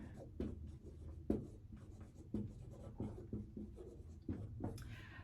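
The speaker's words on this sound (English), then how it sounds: "So I'm going to write that on the bottom here." A marker or chalk writing on a board: a sequence of scratchy strokes and taps at an irregular rhythm, close and clear over a low room hum.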